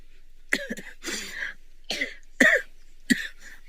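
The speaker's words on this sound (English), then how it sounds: "I normally stop coughing already" A person coughs several times in short, separate bursts, some raspy and throat-clearing, close to the microphone in an otherwise quiet room.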